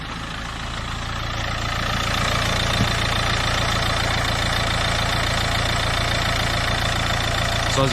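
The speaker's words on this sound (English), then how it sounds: "So if I start the engine" A Nissan Juke engine with a blocked diesel particulate filter settles into a steady idle after starting, a loud, even mechanical drone with a fine rapid pulse and a faint knock, no talk over it.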